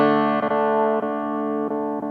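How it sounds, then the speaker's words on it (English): A HUSH-I Pro travel guitar in Hawaiian Blue rings out with added reverb, sustained chords struck four times in a loose rhythm, each strum blooming and fading into a wide, washy tail, close and fairly loud. "I'm just gonna add some little reverb"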